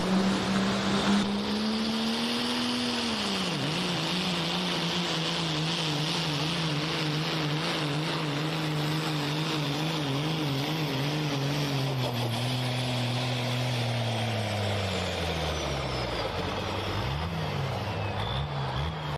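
Unlimited street diesel truck pulling at a county fair, a loud, sustained engine roar that swells and dips as the truck works down the track, heard from a distance.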